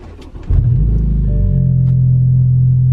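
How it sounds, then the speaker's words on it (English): A BMW F30 sedan, parked with its underside cover removed, cranks briefly and catches, then settles into a loud, steady low idle rumble close by. "let's go ahead and start the car"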